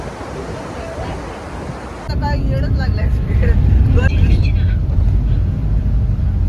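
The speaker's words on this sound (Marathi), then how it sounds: "किती छान नदी वाहते बघा, मस्त एकदम पाणी सुंदर" A river in Bhutan near Thimphu rushes past in a loud, continuous broadband roar that grows stronger partway through, with voices talking over it.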